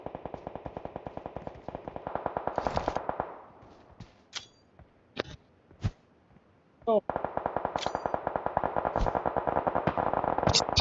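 Rapid bursts of automatic gunfire in the PUBG Mobile game on the Miramar desert map, loud sustained rattling at start and end with scattered single shots and sharp effects in a quieter middle stretch.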